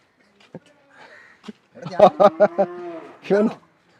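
A cow moos loudly and close by in a series of pulsing, drawn-out calls, with a few quieter sounds before and a final short moo.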